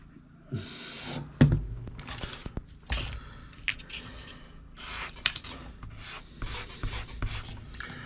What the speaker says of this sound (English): I can come in and just start trimming and sanding to get to the shape I want.